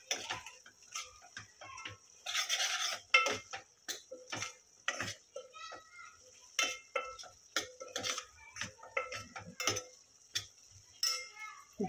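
A spoon stirs soya keema curry with garam masala, chilli, turmeric, coriander and cumin powders in a pan, making close, irregular scraping and clinking strokes in quick succession.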